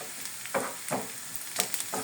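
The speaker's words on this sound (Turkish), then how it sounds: "Soğanlarım da güzel. Şöyle birazcık yakına getireyim tavama." Onions for menemen sizzle in a frying pan with a soft continuous crackle, broken by several stirring scrapes, heard up close with no voices.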